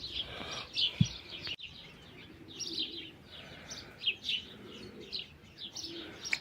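A young smoky-coloured pigeon coos softly and chirps in a loft, with faint high tweets repeating over several seconds and a brief flutter or bump early on.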